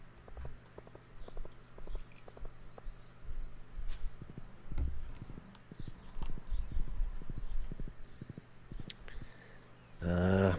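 Rhythmic clip-clop of horse hooves in the farming video game Stardew Valley, steady light taps trotting along under faint game ambience, ending in a brief louder burst.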